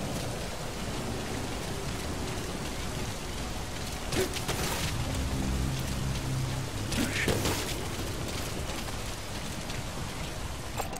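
Rain falls steadily in the Metal Gear Solid V video game, a constant hiss with some low rumbling and a few brief clatters partway through, and no talk.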